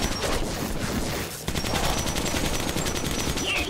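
A shotgun fires in the video game Metro 2033 as a dense run of loud, close blasts with a brief dip near the middle before the shooting resumes.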